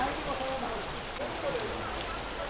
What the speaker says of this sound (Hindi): भाई साहब कितने दिनों बाद इस तरह की झमाझम बारिश देखने को मिल रही है।